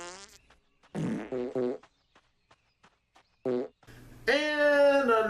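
Cartoon flatulence sounds, a series of loud, buzzy, tonal blasts of varying length with short pauses between, ending in a long drawn-out toot.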